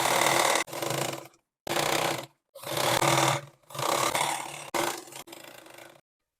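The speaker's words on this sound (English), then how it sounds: "Now we are going to sew the decorative stitches on the waistband." Sewing machine stitching decorative stitches along the waistband of a handmade leather belt, running in several short loud bursts separated by brief pauses, with no talk.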